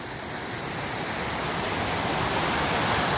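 Periyar river water flowing past a riverside campsite at night, a steady broadband rushing wash that swells slightly louder toward the end, with no voices.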